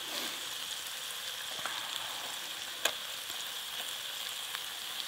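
Food sizzling and frying on a Solo Stove during an outdoor overnight camp, a steady fine crackle with a few brighter pops, close and moderately quiet, without any talk.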